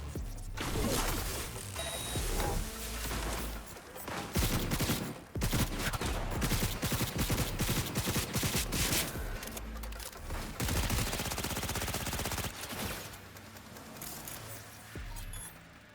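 Rapid bursts of automatic gunfire erupt in Cyberpunk 2077, loud and sustained, with near-continuous volleys broken by brief pauses and mechanical clicks.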